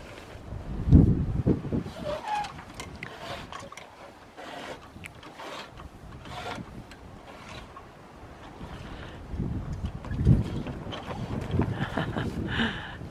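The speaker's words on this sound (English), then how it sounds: "It's a little windy here," Gusty wind on a hilltop buffets the microphone in uneven bursts, loud rumbling swells fading and returning, with no talking.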